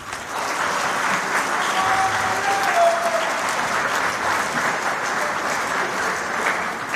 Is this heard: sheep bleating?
no